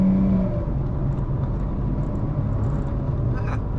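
Chevrolet Cobalt LTZ sedan with an automatic transmission accelerating on the road to overtake a truck, a steady low engine hum and road roar that holds level and close throughout, with no talk over it.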